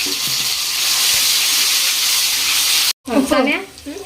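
Garlic paste hits hot oil in a pan for an egg curry and sizzles loudly and steadily for about three seconds, then cuts off abruptly and a voice speaks over fainter frying.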